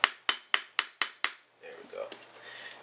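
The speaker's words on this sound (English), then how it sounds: "I'm going to countersink it a little bit with the punch" Six sharp, evenly spaced hammer strikes on a punch countersink the pin of a Magpul M.O.E. trigger guard, loud and close, followed by a softer stretch of handling noise.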